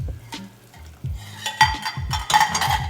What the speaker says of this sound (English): stirring the rice until you can see almost no liquid on the bottom